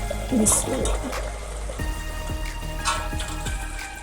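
Fried chicken pieces tipped into a simmering Mughlai gravy in a pan, a wet slosh and splatter up front, then bubbling and a few clinks against the pan, steady and close.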